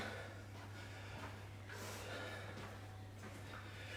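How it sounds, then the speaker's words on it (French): Heavy, steady breathing of someone out of breath during a live exercise session, continuous and close, over a low background hum. "je suis essoufflé"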